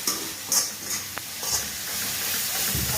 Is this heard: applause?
no